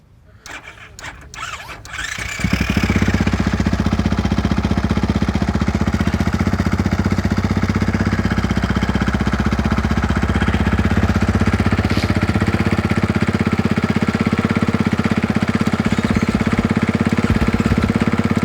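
A rally motorcycle at the Rallye du Maroc 2024 gives a few clicks and rattles, then its engine catches at about two and a half seconds and settles into a loud, steady idle that runs to the end.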